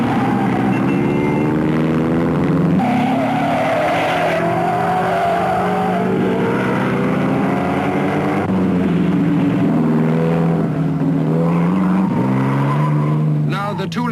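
Jaguar race cars at the 1955 Le Mans race roar past one after another at Mulsanne, with engines rising and falling in pitch. A commentator talks over the loud noise throughout.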